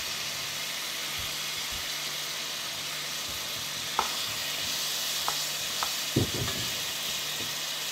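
Butter melting and sizzling over pears in a pan for tarte Tatin, a steady close frying hiss throughout with a few soft clinks and stirring knocks near the end, no talking.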